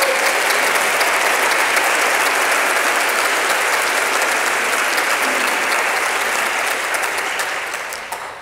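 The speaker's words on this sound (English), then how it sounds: "If you could please have a round of applause for all of our local funders." A large conference crowd at an opening night honors ceremony bursts into loud, dense, sustained applause, a continuous roar of clapping that holds steady before fading slightly at the end.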